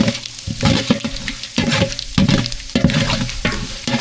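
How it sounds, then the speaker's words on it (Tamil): Mustard seeds and chana dal sautéed in a hot pan, with continuous close frying sizzle and repeated scraping, stirring strokes at an irregular rhythm, no voices. "கடுகு சேர்த்துக்கலாம் கலவரப்பு சேர்த்துக்கலாம் கலவரப்பு சேர்த்து நல்லா வதக்கி விட்டுக்கலாம்"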